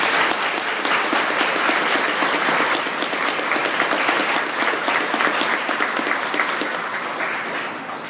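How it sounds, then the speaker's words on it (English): Audience clapping for students being honoured at a ceremony, a dense sustained round of applause from a large crowd that holds steady and then slowly fades near the end. "Please give them a round of applause."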